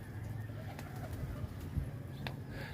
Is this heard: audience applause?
no